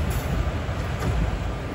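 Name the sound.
Tirupati–Villupuram Express train running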